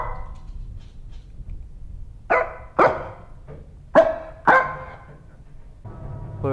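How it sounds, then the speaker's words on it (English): A dog barks in a horror video game, four sharp loud barks in irregular succession over quiet background noise, followed by a softer whimper-like sound. "But a dog's barking downstairs, bro."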